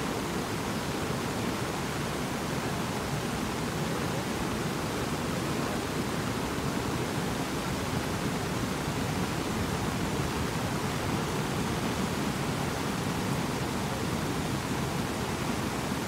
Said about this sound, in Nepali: कस्तो खोला आइरहेछ